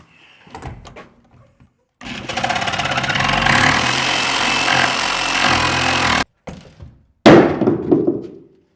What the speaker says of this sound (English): so I'm gonna have to cut this side with the Sawzall.